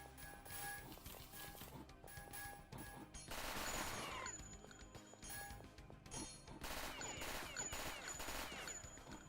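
Rapid, dense bursts of low-recoil gun fire from a video game shooter, The Citadel, rattle continuously and loudly, with brief lulls between strings of shots and no talk over them.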